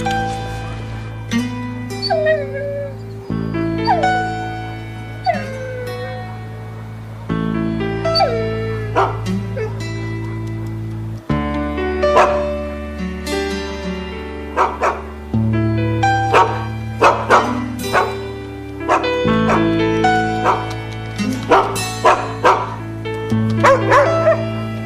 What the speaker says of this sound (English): Shut up, you stupid mutts.